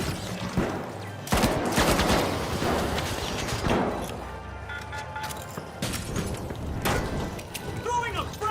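Sustained automatic gunfire in The Finals, bursts with sharp cracks and mechanical clatter running throughout, with several loud peaks and a voice talking over the shooting.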